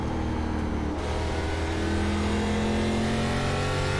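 An ARCA race car in iRacing accelerates hard at USA International Speedway, a steady loud engine roar climbing slowly in pitch with a constant whine, no talk.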